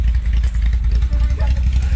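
A Toyota 4A engine fitted with a Schneider regrind cam runs in a Tercel wagon, giving a loud, lumpy, throbbing idle close by with a rough pulsing rhythm.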